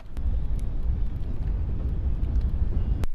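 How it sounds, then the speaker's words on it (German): Strong wind roaring steadily into an outdoor microphone at a harbour in Licata beside a ketch sailboat, a dense low rumble with buffeting and a few sharp knocks, and no talking. "Windig geworden ist es mittlerweile, aber das macht ja nichts."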